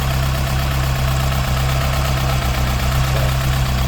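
A Ford Escort engine idles with no thermostat fitted, a steady close low rumble with a faint regular knock and no voices.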